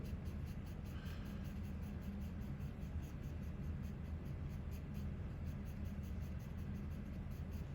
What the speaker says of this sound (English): We're gonna use the Nero pencil to create the brow.